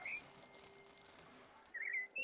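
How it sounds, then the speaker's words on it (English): Soft bird chirps over a gentle ambient drone in the Planet27 tower-defense game, a few short tweets at the start and end, faint and distant. "it's very soft and gentle, and then that mixed with the birds chirping"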